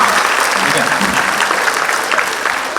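Dense, steady applause from a live concert audience at a show fills the whole stretch, loud and close, with many hands clapping at once.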